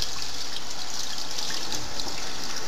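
Running water rinses a dental impression tray at a dental office, a steady close rush of splashing flow that stays loud and continuous throughout.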